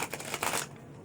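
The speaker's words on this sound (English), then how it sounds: "Shuffle this up a few times." Quick riffle-shuffling of a deck of tarot cards in a few bursts, close and moderately loud, then trailing into quiet.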